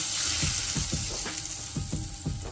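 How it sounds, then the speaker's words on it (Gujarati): Loud, continuous sizzling of hot oil poured as a tempering over khichdi, close up, with rapid crackling pops throughout and no voices. "હવે આની ઉપર આ ગરમા ગરમ તેલનો આપણે વઘાર કરી દઈશું"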